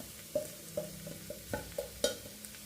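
Onion with chili, turmeric, coriander and garam masala powders sizzles softly in a pan, with a low frying hiss and several sharp taps and scrapes of a spoon stirring the mixture at an uneven pace.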